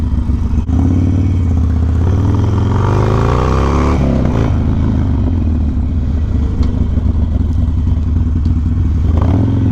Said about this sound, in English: So let's go for a quick ride with Vanessa and talk about my thoughts on what Harley did for 2021.